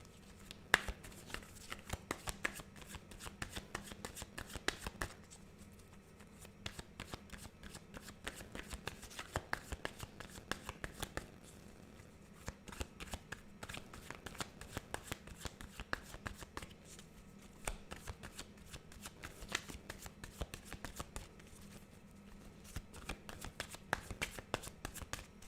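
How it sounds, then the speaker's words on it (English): Tarot cards are shuffled by hand in a long, continuous run of rapid riffling and soft slapping, fairly quiet and close, with no talk over it. "Evelyn, I'm still shuffling for you here."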